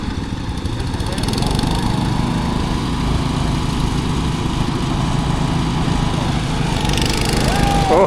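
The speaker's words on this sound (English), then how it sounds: "time for the lawn tractors" Several small lawn tractor engines roar loudly at full throttle while racing at a county fair, a continuous, buzzing drone that swells slightly toward the end.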